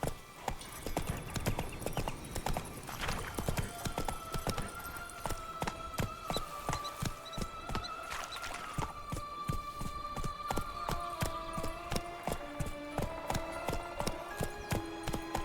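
Horse hooves clip-clop steadily in The Witcher 3: Blood and Wine, a rapid, even rhythm of hoofbeats throughout, with sustained musical tones running underneath.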